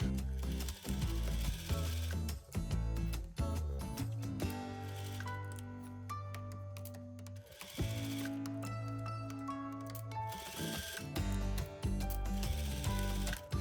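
A sewing machine topstitches the front opening of collarless loungewear in a close, loud, rapid mechanical chatter with a steady motor hum. It runs in several long bursts separated by brief pauses.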